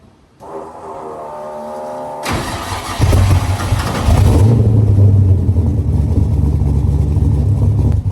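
A V8-swapped Mazda RX-7 cold-starting up close: a brief starter whir, then the engine catches with a loud burst and settles into a deep, lumpy, choppy idle that stays loud and steady.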